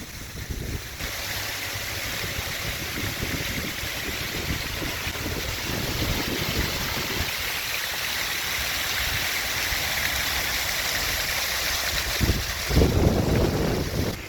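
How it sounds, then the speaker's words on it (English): Car wash jets spraying water onto a car on a rainy, windy day in Ternopil, a continuous loud hissing rush of water drumming on the body, heard from inside, with a sharper burst near the end. "The only way to continue on is through the car wash"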